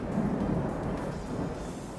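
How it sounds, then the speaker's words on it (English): Low, continuous rumble of thunder rolling steadily throughout, fairly loud and unbroken with no distinct cracks. "It is thundering right now"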